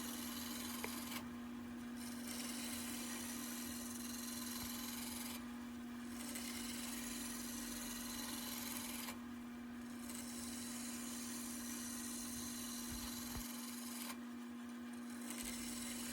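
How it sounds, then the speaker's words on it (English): A roughing gouge cuts a wooden table leg spinning on a wood lathe, giving a steady, continuous scraping hiss with periodic swells as the tool passes, over a constant motor hum and heard alone without talk. "so I got that roughing gouge back out and cut some more"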